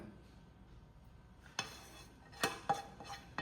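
Rice goes into a pot for prawn biryani, a few scattered metal clinks and scrapes of a spoon stirring it against the pot, fairly quiet over a soft background hiss, the strokes coming in short bursts.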